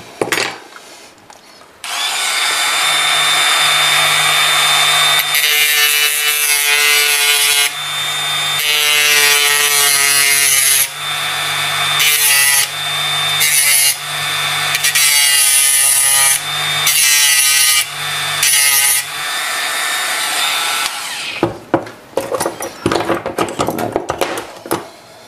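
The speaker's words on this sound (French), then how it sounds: "il faut couper ces petites pattes là qui sont ici au milieu" A small cutting tool snips tabs on an HFR Y6400 locotracteur model train kit, a sustained whirring tone broken by repeated short bursts and clicks, loud and close, ending in scattered handling noises.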